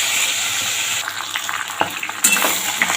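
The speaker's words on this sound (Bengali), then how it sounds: "তাই এবার মাছের মাথাটা খুব সুন্দর করে ভেজে নেব।" A fish head sizzles in mustard oil in a pan, a steady hissing fry broken by a few sharp clinks and scrapes as it is turned.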